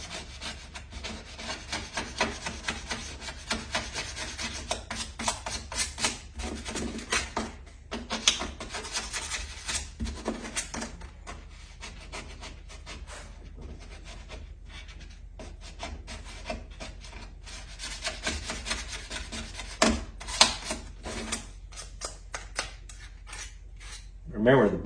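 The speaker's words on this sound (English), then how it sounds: "So just take the razor blade and scrape the red putty off" A razor blade scrapes red spot putty off a surface in a long run of dry rasping strokes. The scraping is close and steady at moderate level, with a few louder scrapes near the end.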